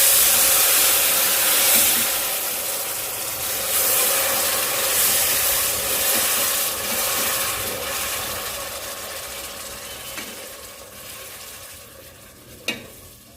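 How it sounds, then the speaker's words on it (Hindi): Semolina roasting in ghee in a pan sizzles and hisses steadily as water is poured in and a spoon keeps stirring, a close, continuous frying texture with scraping strokes and a sharp clink near the end. "पाँच से 10 मिनट सूजी भूनने के बाद घी में अब हम इसमें 1 गिलास पानी शामिल करते हैं।"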